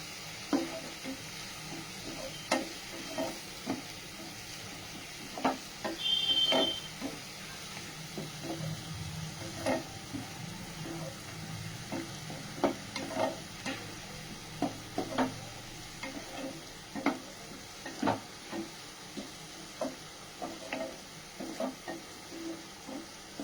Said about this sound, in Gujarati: એમાં થોડું આપણે મીઠું એડ કરશું એટલે ડુંગળી જલ્દીથી આપણે કૂક થઈ જાય.